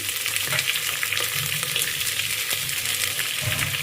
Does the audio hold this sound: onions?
yes